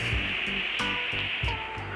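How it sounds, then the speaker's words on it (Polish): Artificial waterfall in the Arkadia park near Nieborów, a constant broadband rush of falling water heard nearby, with faint low thumps and brief rustles over it. "A za mną widać sobie wodospad"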